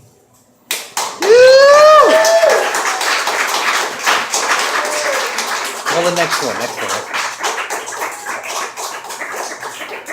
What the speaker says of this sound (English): I didn't even have to ask you to clap that time.